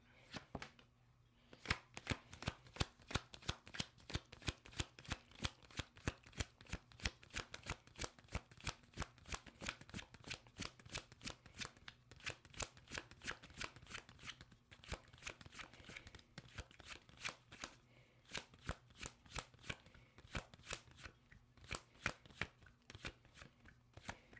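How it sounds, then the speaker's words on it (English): Continuous rapid riffling and slapping of tarot cards being shuffled over and over, close and crisp, with brief pauses between bursts. "Nothing came out in the shuffle"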